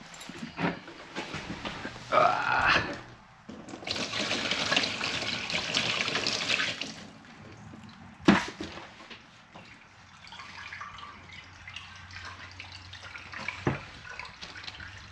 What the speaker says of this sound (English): Got a bucket of water.